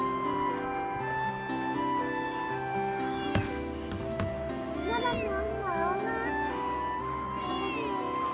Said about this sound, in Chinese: 小猫猫就在这儿